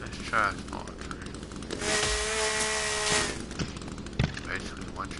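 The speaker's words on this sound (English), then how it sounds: "Chainsaw here." A chainsaw cutting down a tree in the survival video game The Forest: a steady, loud buzzing whine that holds for about a second and a half, with quieter clatter and scattered thuds before and after.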